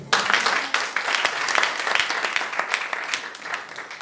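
A church congregation applauds during a French-language service, a dense, lively burst of many hands clapping nearby with no voices rising above it.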